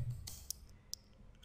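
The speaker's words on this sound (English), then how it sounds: "So you can simply type here union select" A few faint, sparse clicks of a computer keyboard as an SQL command is typed, with quiet isolated keystrokes over a low hum.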